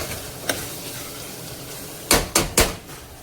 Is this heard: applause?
no